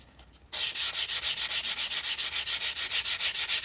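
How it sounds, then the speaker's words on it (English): Sandpaper working the edge of a handmade coin ring, starting after a brief quiet moment and then running as steady, fast back-and-forth strokes, about twenty evenly spaced rasps, close and loud. "I'm just going to clean up this edge with some sandpaper real quick."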